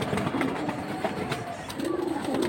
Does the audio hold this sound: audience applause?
no